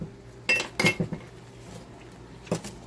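A pot of fudge being taken off the stove, a few clanks and clinks of metal cookware close by, separated by quiet pauses.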